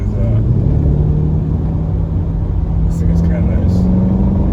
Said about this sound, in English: So I'm driving this 2023 Chevrolet Corvette Stingray